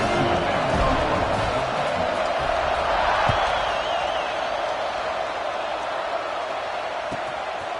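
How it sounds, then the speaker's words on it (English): Stadium crowd in the College Football 26 video game gives off a steady, broad roar of cheering that holds at an even level for the whole stretch, with no clear individual voices standing out. "this crowd now ready to get behind them"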